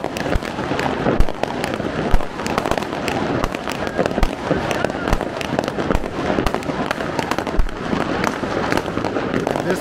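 New Year fireworks over Munich crackle and boom in a dense, continuous barrage, with many overlapping bangs near and far and a few louder blasts standing out.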